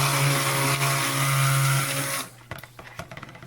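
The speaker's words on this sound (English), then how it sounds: "I'll go ahead and blend it up and make sure my clay is all incorporated" A blender whirs loudly and steadily, mixing clay and additives into cold process soap batter, for about two seconds before cutting off, followed by light clinks and handling noises.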